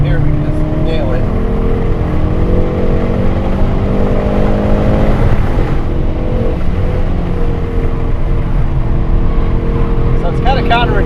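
A car engine revs and pulls hard under full throttle on a race track, a loud, steady drone with rising tones and a brief shift midway, with someone talking over it throughout.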